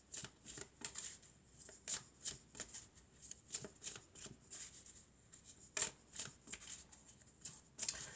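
Elf oracle cards being shuffled in steady, repeated riffling bursts, close and fairly quiet, with no voices over it.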